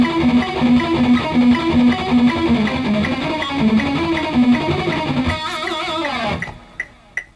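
Fast, distorted electric guitar runs a shred lick over a diminished chord in metal style, a rapid stream of picked notes loud and up close, then a sustained bend and ringing chord that cuts off into near silence.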